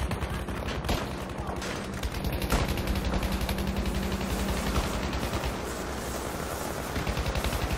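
Dense, continuous gunfire in the shooter game Battlefield V, loud rapid automatic bursts with steady rattling rhythm and occasional sharper shots throughout, no pauses.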